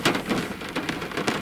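Rain falls outdoors during a wet morning at a WW2 Days 2024 event, a steady close patter with bursts of heavier drops striking a nearby surface.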